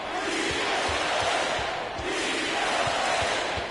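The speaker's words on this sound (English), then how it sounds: "This crowd on the edge of their seats." Virtual arena crowd in the basketball video game NBA 2K24 during an NBA Finals playoff game, a dense continuous roar of cheering with faint rhythmic thumps underneath.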